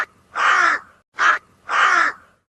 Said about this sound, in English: The crows looked at me and went caw,